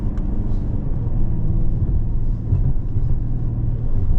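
Mercedes-AMG GT 43 4-door coupe engine, a steady low rumble with slight rises and dips as the paddle shifters change gears, heard from inside the cabin with no talking.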